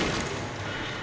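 Gunfire in the video game Resident Evil Requiem comes as a dense, loud burst of rapid shots packed into a single second.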